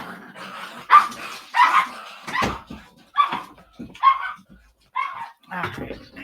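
A pet dog locked outside a home office barks and yips in a string of sharp, loud bursts with short gaps, some whimpering notes in between, close to the microphone.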